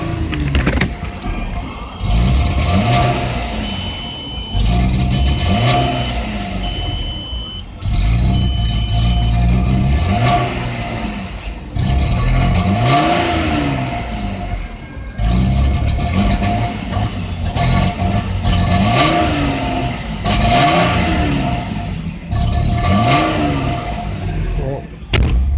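A 1998 Audi A6 Quattro with a 2.8L engine idles roughly and is revved repeatedly in rising and falling bursts up close, with someone talking over the uneven engine note.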